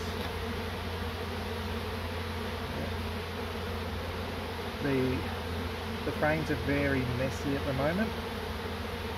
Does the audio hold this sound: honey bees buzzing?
yes